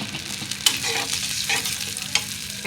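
Spice paste fries in mustard oil in a pan with a steady, close sizzle. A spatula scrapes and stirs it in short bursts, and no one talks.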